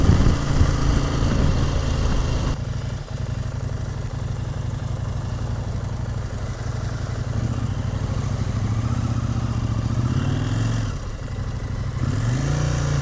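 A KTM motorcycle engine drones steadily while riding, with constant wind-blown rumble and slight shifts in engine pitch, loud and continuous throughout.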